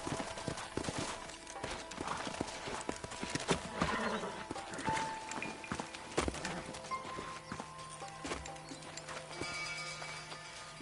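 Horses' hooves clip-clop steadily in the Western video game Red Dead Redemption, with a couple of neighs and whinnies and a busy game soundscape around the rhythmic plodding.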